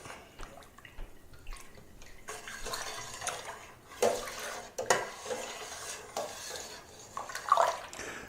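Tomato wine being stirred in a fermenting bucket with straining bags inside, giving soft sloshing and swishing of liquid with a few sharper knocks against the bucket, moderately quiet and continuous.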